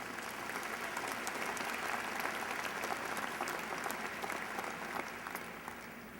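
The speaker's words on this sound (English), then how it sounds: "Let's thank all of these folks with our applause." Audience applause at a UNC Charlotte fall graduation ceremony, broad continuous clapping across a large hall, fairly distant and steady before easing slightly at the end.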